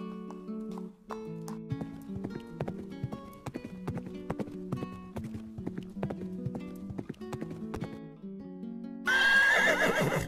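Horse in a pen with hooves clip-clopping in a steady rhythm over a musical backdrop, followed by a loud, clear neigh at the end.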